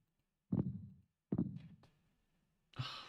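Three heavy low thumps from a heartbeat sound effect, the first two booming and evenly spaced about a second apart, the third cut short by a brighter hiss; close and fairly loud with no talk.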